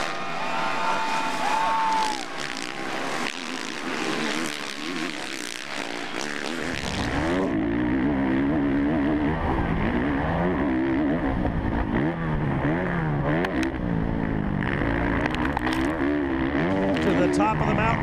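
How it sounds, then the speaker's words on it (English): Pro motocross dirt bikes racing at Washougal MX: engines buzz and roar at a distance under continuous commentary, growing louder and fuller partway through. "We've just been passed by the number one of Ryan Dungey, Ryan Villopoto."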